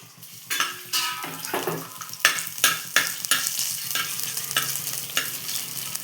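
Crushed ginger frying in two spoons of oil for a shark curry, heard as a steady close sizzle with repeated metal spoon scrapes and clinks against the pan, and no one speaking.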